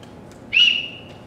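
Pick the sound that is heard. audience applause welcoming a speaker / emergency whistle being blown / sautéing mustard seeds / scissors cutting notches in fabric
emergency whistle being blown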